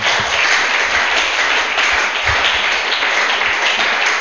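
A church congregation claps together in a dense, loud burst of applause that fills the brief moment, with no voices over it.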